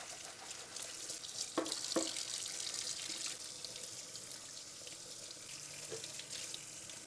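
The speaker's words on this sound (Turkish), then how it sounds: "Bu çok yağlandığı için köpüklü suyla güzelce yıkıyoruz." Greasy dishwasher filter parts washed under running soapy tap water in a sink, a steady close splash and trickle with a couple of brief clunks of the parts against the basin, no voices.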